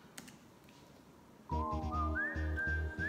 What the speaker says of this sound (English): Love that with the whistle as well.